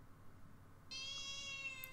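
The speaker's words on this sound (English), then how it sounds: "Oh, shit. It's the cat." A cat meows in the video game Yume Nikki, a sudden sustained tonal call starting partway in and holding steady to the end over faint background hiss.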